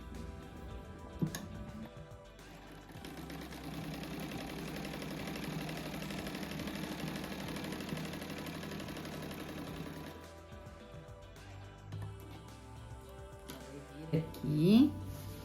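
A sewing machine stitching a straight seam in patchwork for a table runner, a steady close mechanical whir with rapid ticking that runs for about ten seconds, then stops, and someone talks at the end.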